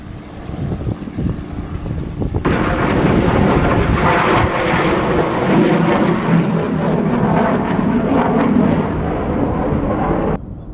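A huge airliner, like a Boeing, roars overhead, the engine noise swelling sharply and holding loud and close before cutting away, with no talk over it.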